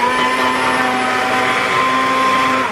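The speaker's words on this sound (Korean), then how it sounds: "한 스푼 반만 넣고 갈아줍니다" A blender grinds a health drink made with a spoonful and a half of powder, a loud, continuous whir that holds steady for the whole stretch with no talking.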